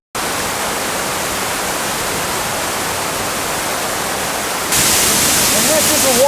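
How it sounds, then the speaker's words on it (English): A cave waterfall roars as a steady, broadband rush of falling water, loud and continuous, with a brief brighter hiss near the end and faint chirping tones over it. "This is a waterfall."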